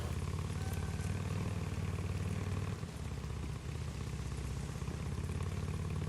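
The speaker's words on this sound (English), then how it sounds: "You know that motorcycle's gonna be kind of loud and bring attention, right?" A motorcycle engine idles in the video game Days Gone, a steady, loud mid-pitched rumble with a fine clattering pulse that runs without a break for the whole stretch, with no voices over it.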